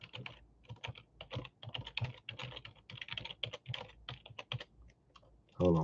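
Typing on a computer keyboard as rapid, uneven bursts of close clicks and taps that run continuously, then a louder thump at the end.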